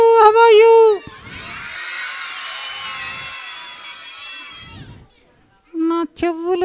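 A group of children at a church Vacation Bible School puppet show shout and cheer loudly in a sustained burst, with an adult voice speaking before and after.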